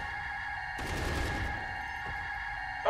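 Assault rifle fire in the sci-fi action game Ruiner comes as a brief burst of rapid shots lasting under a second, set over a steady electronic game soundtrack and hum.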